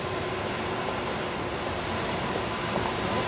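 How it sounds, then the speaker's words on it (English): A train rolls slowly through a train wash in Japan, giving a continuous low rumble and broadband mechanical wash that stays steady and fairly close, with no talking. "There we go, a nice clean train coming through."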